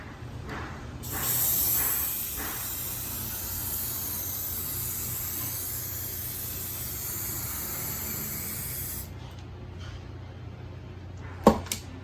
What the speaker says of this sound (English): I will use this spray paint, gold spray paint.